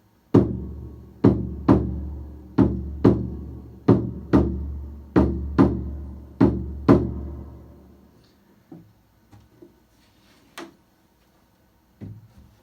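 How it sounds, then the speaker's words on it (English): A handmade ceremonial drum with a turtle-shell back is struck about a dozen times in a steady, even rhythm. Each hit is close and resonant, and a few scattered softer taps follow. "It's like a ceremonial instrument, and it's a drum."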